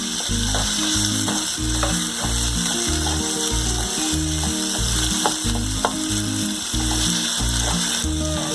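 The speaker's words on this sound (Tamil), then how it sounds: "ஒரு 2 மினிட்ஸ் வந்து வதக்கிக்கலாம்." Masala paste sautéing in a pan for paleo sambar rice gives a steady, close sizzle with stirring scrapes throughout, over background music.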